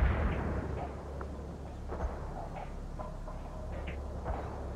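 Artillery barrage in World in Conflict, Soviet Assault, a continuous low rumble of distant explosions with scattered faint pops and thuds over a dense battle backdrop.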